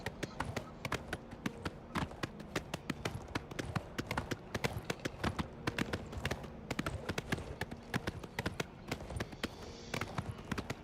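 Rapid, steady clip-clop of horse hooves at a trotting pace in the video game Oblivion, close and fairly quiet, with a faint background hum.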